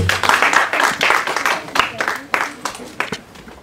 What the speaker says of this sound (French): Nous allons nous asseoir et nous acclamons pour cette merveilleuse parole